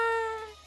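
A streamer's voice imitating a cat, a single drawn-out meow with a bright tonal start that fades away over less than a second.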